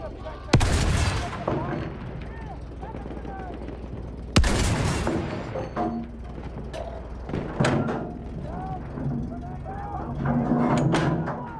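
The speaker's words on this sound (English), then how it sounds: "machine gun over there!" Gunfire rattles through a Battlefield 1 battle, with two heavy blasts and bursts of shots mixed with loud in-game shouting and commotion.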